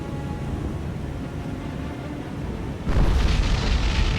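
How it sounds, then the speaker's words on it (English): A warship's ammunition magazine detonates in the naval combat game War on the Sea: steady rumbling battle ambience, then a sudden loud, deep blast that keeps roaring on. "Well, that was a magazine explosion if I ever saw one"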